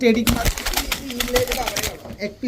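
Pakistani teddy racer pigeons coo in low, repeated throaty bursts at close range, with rustling and handling noises around them.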